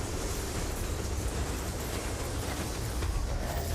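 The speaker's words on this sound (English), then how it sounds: "The train's pulling away." A train in a video game trailer rumbles and clatters steadily as it pulls away, a dense, continuous broadband roar with faint rhythmic rail clicks and no talking.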